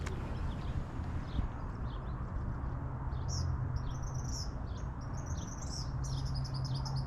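Small birds chirp and tweet in quick high bursts near a lake, fairly faint above a steady outdoor rumble and hum, with the calls clustering in the second half.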